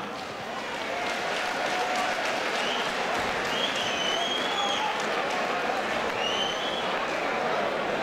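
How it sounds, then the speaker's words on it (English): Arena crowd at a Made 4 The Cage MMA event applauding both fighters after a bout, a dense sustained wash of clapping and cheering with a few shouts rising through it. "Ladies and gentlemen, round of applause for both our fighters this evening."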